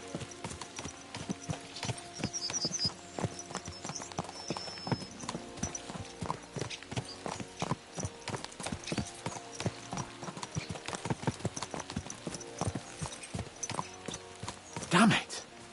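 Horses galloping in Kingdom Come: Deliverance II, a steady fast clatter of hooves that runs throughout alongside background music and occasional speech, with a louder burst near the end.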